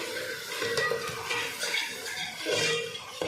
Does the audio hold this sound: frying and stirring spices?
yes